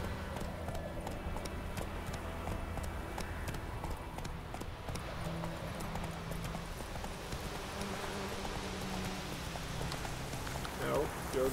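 Horse hooves clip-clopping at a steady pace in the Witcher 3 game world, a faint rhythmic thudding beneath quiet ambient sound.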